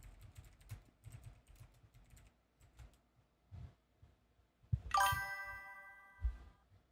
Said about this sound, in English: Here, I'll type it out for you.